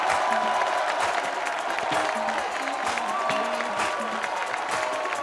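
Loud applause and cheering from a comedy show audience welcome a performer on stage. The dense clapping is mixed with whoops and crowd noise, and scattered voiced tones run throughout.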